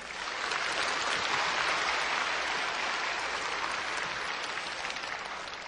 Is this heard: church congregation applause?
yes